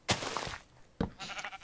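Sheep bleating in the video game Minecraft: two separate short, wavering bleats about a second apart, close and clear, with a soft voiced trail after the second.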